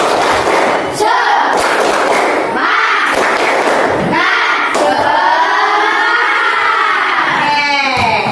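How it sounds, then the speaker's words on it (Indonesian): A school class does a rhythmic spirit clap (tepuk semangat), chanting voices mixed with bursts of patterned clapping and thumps, loud and close in a classroom. "Yuk kita lakukan tepuk semangat"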